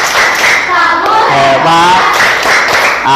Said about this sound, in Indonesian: Tepuk hebat buat Gabriela.